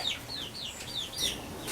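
Chickens in a backyard coop clucking softly and chirping in short repeated calls, close by but fairly quiet, with no talking.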